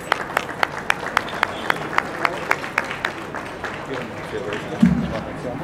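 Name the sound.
applause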